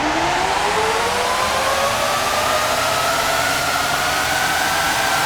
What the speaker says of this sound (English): The sound of those 700 horsepower engines is incredible.